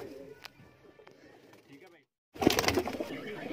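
Pigeons in a loft housing a large flock coo softly, with faint calls early on and then a short pause before a louder burst of cooing and rustling close by, mixed with people talking.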